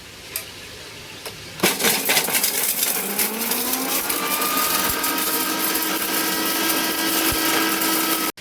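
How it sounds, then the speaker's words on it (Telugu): A mixer grinder grinding dried red chillies starts abruptly, its motor whine climbing in pitch as it spins up, then grinds steadily and loudly before cutting off sharply. "ఇప్పుడు మనం మెత్తగా మిక్సీ అండి"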